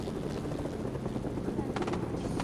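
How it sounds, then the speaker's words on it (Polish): Helicopter in the Fortnite video game, a steady rotor drone running throughout under dense gameplay noise, with bursts of gunfire-like crackle late on and a player's voice mixed in. "mają helikopter."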